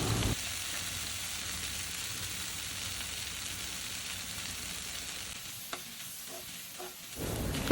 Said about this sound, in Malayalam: അപ്പോൾ ഇതാ നല്ലോണം ഒന്നും കൂടി വഴറ്റി കൊടുക്കുന്നുണ്ട്